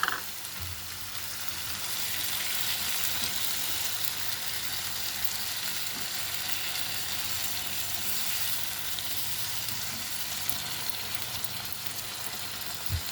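Tomatoes fry in a pan for a black-eyed pea and onion curry, a steady, dense sizzle running throughout with faint stirring clinks near the start and end.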